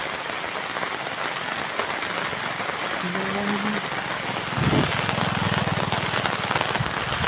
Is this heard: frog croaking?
no